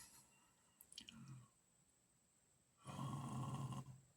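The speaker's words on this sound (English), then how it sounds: "How that sounds is exactly how it feels, like I'm breathing through a wet towel." A person breathes with a labored, wheezy rasp at close range and very low level, with a short rough inhale followed by a longer, louder, congested exhale.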